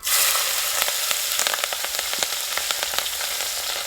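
Green chili pieces hit hot oil while making Gujarati ringna no olo, an eggplant dish, bursting into a loud, busy sizzle with rapid popping and spitting that gradually settles into a steady fry.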